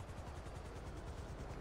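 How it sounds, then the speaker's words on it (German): A helicopter in GTA 5 Online thrums with steady, rapid rotor chopping, a continuous pulsing beat at moderate level, without anyone talking. "Oh, da kommt ein Heli zu fliegen."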